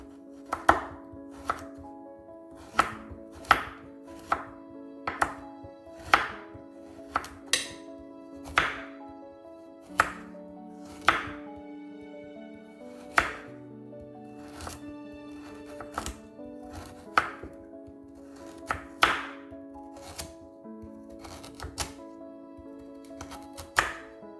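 A knife chops carrot lengthwise on a cutting board in a Southern fried cabbage recipe, about two dozen crisp, evenly spaced thunks ringing out close and clear over quiet background music.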